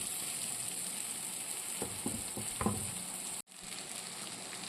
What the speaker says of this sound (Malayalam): നമുക്ക് അരിഞ്ഞു വെച്ചേക്കുന്ന ഉരുളക്കിഴങ്ങും കൂടെ ഇടും.